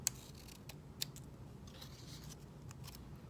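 Scissors snip through folded paper in a few quiet, separate crisp cuts with soft rustling between, set against faint room background.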